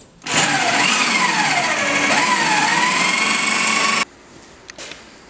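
A power drill bores out spot welds on a Datsun 280Z body panel, giving a loud, steady, whining grind that holds for about four seconds and then cuts off abruptly, leaving a quiet room.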